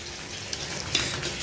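A mixed nine-vegetable fasting curry boils in a cooking pot, giving a steady bubbling sizzle with a few small clicks from a spoon or lid.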